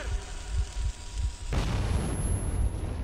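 Frag grenade explosion in the video game Metro 2033: a loud, broadband blast bursts in midway after muffled rumbling and sustains with a rolling roar.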